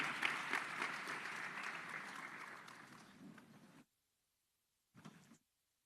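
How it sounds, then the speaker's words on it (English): Applause for the panelists at a tourism forum, a crowd clapping steadily for nearly four seconds before cutting off abruptly, then a brief burst of clapping after a short silence. "applause please to our distinguished speakers"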